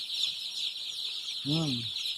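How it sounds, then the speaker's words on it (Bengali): A brown cock chicken, one of a newly brought-in flock in a brooding shed, gives a single short clucking call near the end over a steady high-pitched hiss. "ব্রাউন কক মুরগি উঠিয়েছি আমরা নতুনে।"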